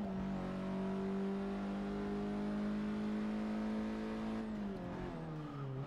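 A hot hatch engine races hard in Forza Motorsport 6, a loud, steady high-revving drone held for several seconds before the pitch drops and shifts near the end, with no talk over it.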